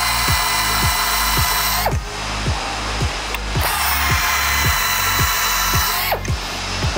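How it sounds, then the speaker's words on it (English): A power drill whines steadily and loudly, its pitch cutting out and restarting a few times as it chamfers a hole in metal using a FlexArm A-32 arm, with no talking. "I don't have to worry if I'm holding my drill directly vertical underneath the hole"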